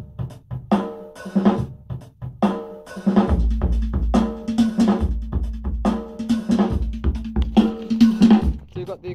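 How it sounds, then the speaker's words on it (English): Acoustic drum kit hits play together with a drum machine loop, steady repeating beats with a low sustained bass undertone, fairly loud and continuous throughout. "So you've got the acoustic drum and the loop."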